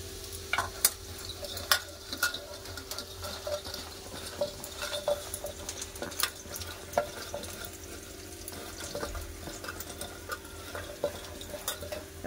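Bitter gourd pieces fry in oil in a pan, a steady close sizzle with scattered crackles and pops and occasional stirring scrapes, no voices.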